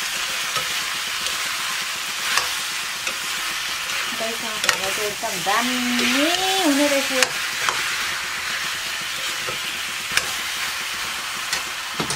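Pumpkin curry stir-fried in a pan in a Nepali home kitchen, giving a steady close-up sizzle and hiss with a person speaking briefly over it partway through.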